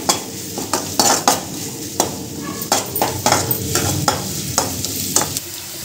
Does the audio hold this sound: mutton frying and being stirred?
yes